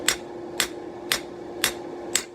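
A hammer strikes steel while forging the bevels of a Roman gladius blade, five sharp ringing blows at an even half-second rhythm, close and alone.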